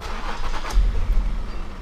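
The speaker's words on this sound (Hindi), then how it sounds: "उसके बाद गाड़ी को स्टार्ट करें।" A car engine cranks and catches after sitting parked for a long time, then settles into a low idle rumble close by.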